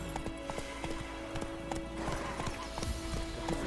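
Horse hooves gallop in The Witcher 3 video game, a rapid, steady clip-clop rhythm that carries on throughout, fairly close, over a sustained tonal background.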